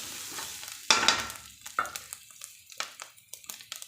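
Onions sautéing in a pan, a sizzling burst as they are stirred, then a series of short scraping strokes and soft frying crackle, close up with no talking.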